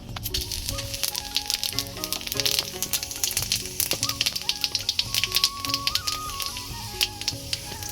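Chilli paste frying in hot oil in a wok, giving a steady dense sizzle and crackle throughout, with a background tone running underneath and no talking.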